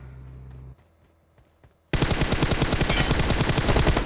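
Gunfire in PUBG Mobile: after an engine hum and a short quiet pause, a loud burst of rapid automatic shots goes off close by and keeps firing to the end.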